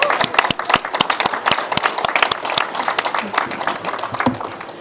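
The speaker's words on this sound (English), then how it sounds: "let's give another round of applause to the winners, please." An audience at a climate adaptation leaders' event at COP29 applauds the winners, a sparse, loud round of individual claps, irregular and close, with a faint murmur beneath.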